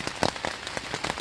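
Rain arriving over a bicycle tourist's roadside shelter on a ride from Calais, France to Spain in October, a steady patter of drops on a surface with a few sharper, louder hits standing out, close by, with no talking.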